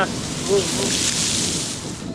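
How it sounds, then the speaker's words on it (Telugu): Sea waves break against large stones placed to hold back the surf at Bet Dwarka, a continuous broad roaring wash with faint wind and a brief voice near the start. "ఇవన్నీ రాళ్ళలో గట్టిగా వేశారు అలలను ఆపడానికి ఎదురుగా సముద్రం"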